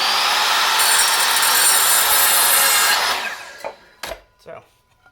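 Power saw with a built-in laser cuts a wooden board, whining loud and steady for about three seconds, then spinning down, followed by a few knocks of wood being handled.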